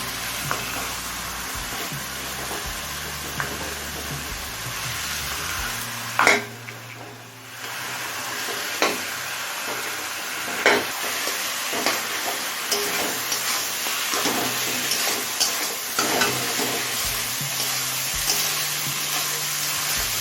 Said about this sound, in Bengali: মাছের মাথা দিয়ে মিনিট পাঁচটাই কষিয়ে নিয়েছি